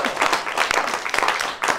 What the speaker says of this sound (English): Thank you, clap for that.